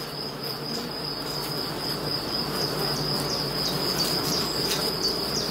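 Black honey bees buzzing around an open hive during a colony inspection, a dense steady hum close by and continuous with no voices.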